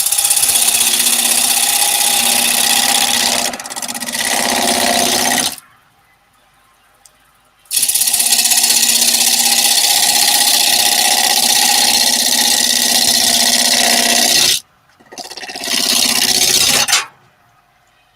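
A chisel cutting into wood spinning on a lathe while a lamp base is turned, a loud continuous rough scraping hiss in long passes broken by short silent gaps as the tool lifts away.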